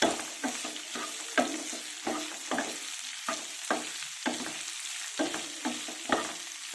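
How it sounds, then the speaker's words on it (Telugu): Green chillies and curry leaves frying in a pan, a constant sizzle broken by regular scraping strokes of a spatulaa stirring them, close and moderately quiet. "పచ్చిమిర్చి, కరివేపాకు. ఇవి బాగా ఫ్రై అవ్వాలి."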